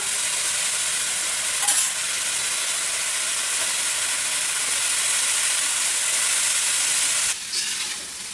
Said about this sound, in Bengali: এই তো আলুগুলো দিয়ে এখন কষিয়ে নিচ্ছি, বেশ কিছুক্ষণ কষিয়ে নেবো।